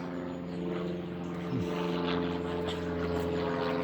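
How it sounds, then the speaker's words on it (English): Propeller plane flying over near a railway overbridge, a steady droning engine hum with a brief pitch sweep, moderately loud and continuous. "And there is a plane, because why not?"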